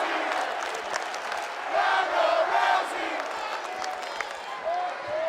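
A wrestling video game crowd in WWE 2K roars and chants steadily throughout, a continuous arena din with shouting swells, no single voice standing out.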